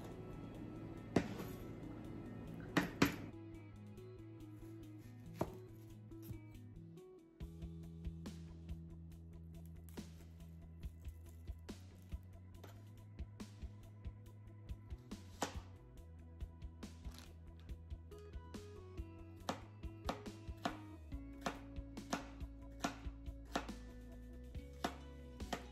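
Onion chopped with a knife on a board while preparing Thai stir-fried basil pork, sharp close knife taps repeating in irregular bursts over a steady low musical background.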